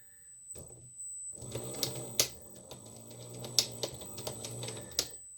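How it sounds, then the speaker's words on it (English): A Redcat Gen 7 RC truck's faulty transmission runs with a steady whirring drone, broken by repeated sharp clicking crunches at irregular intervals. The sound is close and moderately loud, with no voices. "There's some crunchiness happening somewhere."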